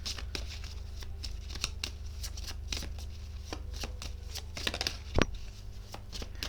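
Tarot cards being shuffled in steady, close riffling and sliding bursts that run continuously, with one sharper snap near the end; no talking.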